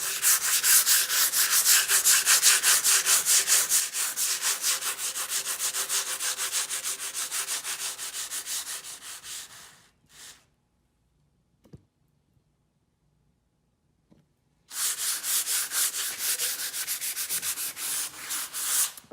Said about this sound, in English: in this case, I'm just using a 220 fine grit sanding sponge